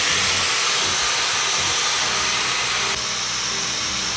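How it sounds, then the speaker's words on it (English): Hair dryer fitted with a diffuser, held up against the roots of curly hair on medium heat, giving a loud, steady whooshing hiss that continues without pause, with a slight drop in level near the end. "I kind of pick up the section of hair I'm working on, bring my diffuser up to it, and then hold it right up against my roots"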